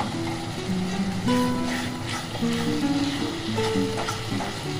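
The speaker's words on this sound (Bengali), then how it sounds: "এবার এই মশলাটাকে একটুখানি নেড়ে ছেড়ে নেব।" Ginger and spice masala for Bengali-style mutton kosha being stirred and fried in a pan, a steady close sizzle with scraping stir strokes and faint background tones, no talking.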